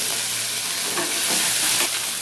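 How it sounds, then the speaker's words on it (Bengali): Ginger frying and spattering in hot oil with reddened cumin seeds, a loud, close, continuous sizzle with crackling spits and a stirring scrape. "আদায় তো জল থাকে সেই জন্যই আদা এত ছিটে যায়"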